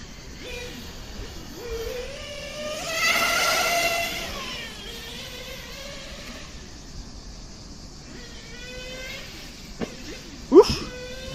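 A radio-controlled car runs its first laps on an outdoor track, its thin electric whine rising and falling as it speeds up and slows. It stays fairly faint, then a sharp knock or crash near the end.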